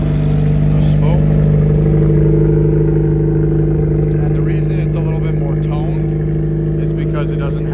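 The engine of a 1981 Jeep CJ-7 with no muffler idles loud and close, a steady raw drone with a throbbing pulse, while a person talks over it.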